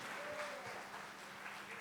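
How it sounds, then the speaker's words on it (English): Steady audience applause fills a conference hall for a guest called to the stage, a continuous wash of clapping with faint voices underneath. "let's give a round of applause for him"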